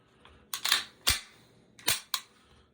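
An unloaded Beretta 92F 9mm pistol's slide is drawn back and locked during a field strip, producing a few sharp, close metallic clicks and clacks in quick succession with no speech.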